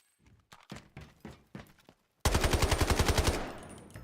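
An M7 rifle in the shooter Delta Force fires a loud close burst of about a dozen rapid, evenly spaced shots. A few lighter clicks and handling taps come before it, with no talk.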